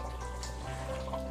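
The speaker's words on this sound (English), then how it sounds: "we'll just check the chicken here. It's been cooking for 10 minutes now." Chicken simmering in a pot for Mysore-style donne biryani, a steady close bubbling and soft sizzle with faint watery crackle running evenly throughout, no voices.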